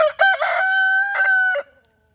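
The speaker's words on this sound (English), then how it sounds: "But it's just the beautiful rooster." A Leghorn rooster crows once, close and loud, a bright harmonic call in several stepped syllables that ends abruptly into silence.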